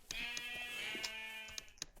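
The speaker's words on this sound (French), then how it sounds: "Oh, il y a des moutons aussi." Sheep bleat repeatedly in a blocky sandbox video game, several short wavering calls overlapping at moderate volume with no talk.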